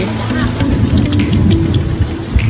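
Wind and rain sweep in at a riverside farm homestay in Suan Phueng, Thailand, a gusty rushing wash with patters over a low rumble, close and fairly loud, with someone talking throughout.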